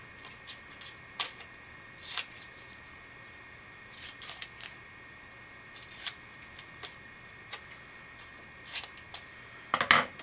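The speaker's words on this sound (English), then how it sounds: "Trim it up with some scissors." Scissors trim a sticker label that will go on a tool for engraving: a dozen or so crisp, close snips come at irregular intervals against quiet, with a cluster of quick cuts at the end.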